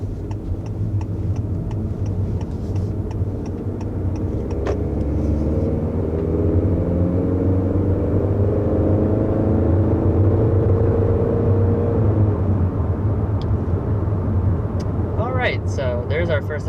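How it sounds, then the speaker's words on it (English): A 2021 Honda Accord accelerates to about 60 mph, its engine note climbing steadily through a couple of rises inside the cabin against a constant road rumble, with a few light ticks and a short voiced sound near the end. "So there's our first acceleration, up to about 60 miles an hour with this 2021 Honda Accord"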